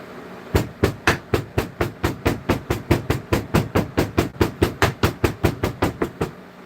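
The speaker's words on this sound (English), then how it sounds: "Just a little bit of hammer right there." Close, loud hammer blows strike in a steady, even rhythm, about two dozen sharp metallic hits in quick succession during a copper pouring session.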